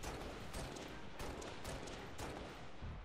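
Gunfire in the Halo: Reach video game during a Legendary mission in New Alexandria, with dense rapid bursts of shots and blasts overlapping in a continuous loud battle din.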